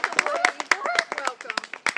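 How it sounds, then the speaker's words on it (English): Scattered, uneven clapping from a small audience at an evening wildlife sanctuary event in Easthampton, Massachusetts, sharp individual claps mixed with people talking and calling out. "Let's have a big round of applause."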